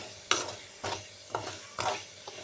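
Ginger amla pickle stirred with a spoon in a pan over a lit gas stove, four or five close scraping strokes in an uneven rhythm, with a light sizzle underneath.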